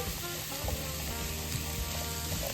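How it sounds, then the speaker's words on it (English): Apples sizzle in a pan with celery and onions, a dense continuous frying hiss with small crackles, close and even in level, with no talking. "take a minute to add my apples to this pan and let them start cooking"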